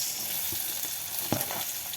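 Onions frying in a pan with garlic and chili while being stirred, a steady close sizzle broken by a few soft scraping and clanking stir strokes.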